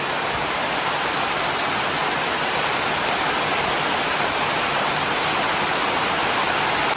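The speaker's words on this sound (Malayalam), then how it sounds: "നല്ല മഴ കേട്ടോ നല്ല ശക്തിയില്ല മഴ കാറ്റ് വീശുന്ന" Heavy rain lashes down in strong wind near open paddy fields, a dense, loud, unbroken hiss of water with no gaps and no voices.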